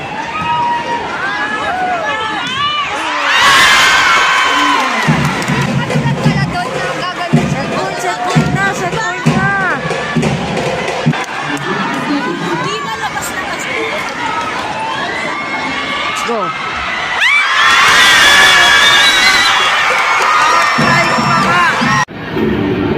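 A packed arena crowd at a Creamline vs. Akari PVL volleyball match roars and cheers continuously, with two louder surges of shouting and screaming at set point, dense and close.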